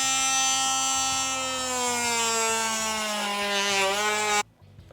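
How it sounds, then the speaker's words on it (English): A power tool cutting through a rack of pork rib bones for a competition barbecue recipe gives a steady, loud, high-pitched whine that holds for about four and a half seconds, then cuts off abruptly. "We get to break out the power tool."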